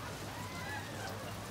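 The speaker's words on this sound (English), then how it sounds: "It is darkly raining now." Steady rainfall patters on surfaces outdoors in a tropical-style downpour, a dense continuous hiss of drops at even loudness with no voices.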